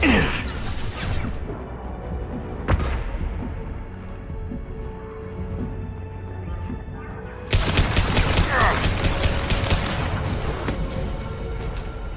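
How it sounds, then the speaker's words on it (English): Flashbang grenades go off during a Mass Effect 2 firefight: a sharp burst near the start, a dull boom around three seconds, then a loud crackling blast that rings on through the rest of the game audio. "Watch out, flashbangs!"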